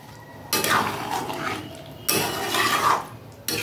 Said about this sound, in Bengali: এইভাবে নাড়িয়ে নিয়ে নামিয়ে দেব।